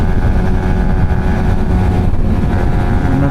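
Yamaha MT-15 V2 motorcycle engine at high speed in fourth gear, a loud, steady drone with a sustained whine and heavy wind roar, holding constant throughout without any talking.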